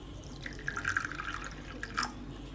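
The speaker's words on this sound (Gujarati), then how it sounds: "અને પાણી નાખી દેવું એમાં." Water is poured into a small bowl of soaking basil seeds, producing faint splashes and a few scattered drips close by in a quiet kitchen.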